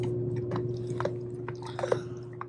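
Quiet crunching and chewing as a dog eats fish, a series of irregular crisp bites close by over a steady low hum.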